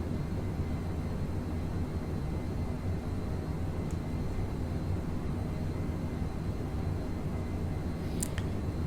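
Steady, even roar of a Eurofighter Typhoon jet engine in Microsoft Flight Simulator, a broad constant rushing hum at high speed, with a couple of faint brief clicks near the end and no talking.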